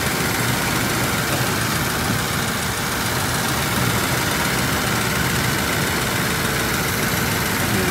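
Engine of a 1980 Mercedes-Benz 450 SL running steadily and close, a dense continuous rumble with no clear separate revs, alone without talk.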